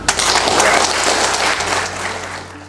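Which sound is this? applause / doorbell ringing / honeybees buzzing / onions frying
applause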